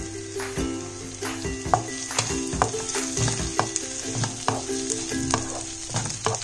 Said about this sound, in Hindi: अब इसमें हम कॉर्न डाल देते हैं